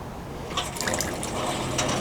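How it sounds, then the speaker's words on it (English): Tap water running from a faucet with weak pressure, a steady splashing and trickling flow that swells after the first half second and continues evenly, close by, with no talking. "I am gonna run some water"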